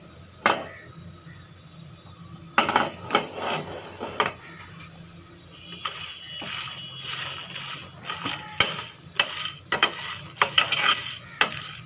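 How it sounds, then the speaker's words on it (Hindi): Whole spices are dry roasted in a pan for chaat masala, with repeated scraping and stirring scrapes of a utensil, rattling seeds and light clinks, close and moderately loud, growing busier toward the end. "ये साबुत मसाले उनको हमने फ्राई कर लिया है, भून लिया है।"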